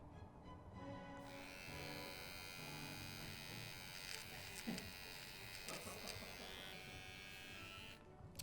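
A nose and ear hair trimmer with a 9,000 RPM motor-driven 360-degree rotary dual blade runs with a steady, thin electric buzz for several seconds, close and fairly quiet, with faint background noise.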